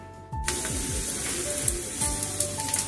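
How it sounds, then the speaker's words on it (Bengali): Paratha frying in a pan, a steady sizzle starting abruptly after a brief quiet moment and continuing with small crackles and occasional scraping. "আমার ময়দা মাখা হয়ে গেছে, এরকম ময়দা পরোটা ভাজতেও শুরু করে দিয়েছি।"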